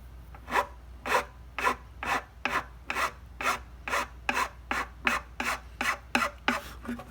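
A file rasps rhythmically across the edge of a violin nut during fitting and restoration, about fifteen even back-and-forth strokes, close and steady, with no talking.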